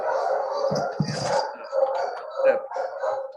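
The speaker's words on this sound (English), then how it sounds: "The dogs are barking." Dogs bark and howl close by in a jumble of overlapping yelps and cries, fairly loud, with no one speaking.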